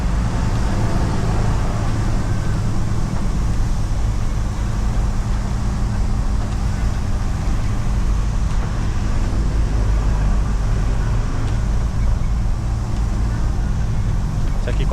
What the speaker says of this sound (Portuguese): o freio motor tá ligado ali, mas com giro baixo nem faz diferença mesmo